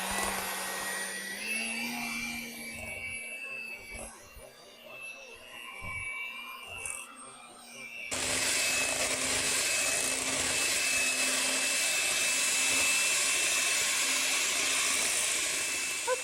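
An electric hand mixer whirs steadily while beating ricotta cookie batter made with whole milk ricotta cheese in a home kitchen. The hum starts softer with some handling noise, then becomes a loud, continuous buzz.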